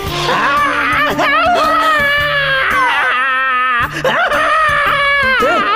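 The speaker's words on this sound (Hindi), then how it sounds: "क्यों चिल्ला रहे हो?" Person screaming and wailing in a Hindi-dubbed South Indian action movie scene, a loud sustained anguished cry with rising and falling pitch and brief breaks, set against a dense soundtrack.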